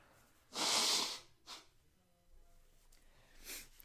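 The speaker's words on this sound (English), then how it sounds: "I'm going to blow my nose." A forceful, breathy blast of air through the nose, followed by a couple of shorter snorting puffs and quiet sniffling.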